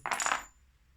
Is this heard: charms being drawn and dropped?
yes